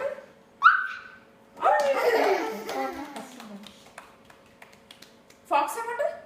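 A young child imitates a dog's bark with her voice, giving a few short, lively yelps close to the microphone, with an adult talking quietly around them.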